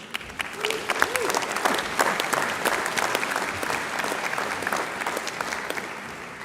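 Sustained applause from a graduation ceremony crowd for business school graduates, steady and full throughout, with a few whoops rising over the clapping.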